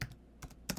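A few quick keystrokes on a Mac computer keyboard while a folder name is typed, three soft clicks spaced across a brief, quiet moment.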